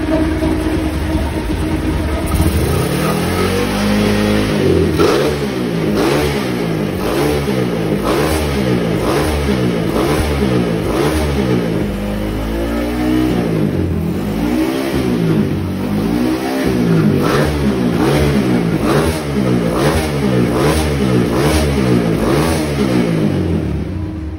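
A Megapro 215cc motorcycle engine with a 68mm-stroke crankshaft revs repeatedly after dyno carburetor tuning, a loud, steady run of rhythmic throttle blips rising and falling through the whole stretch with no talk.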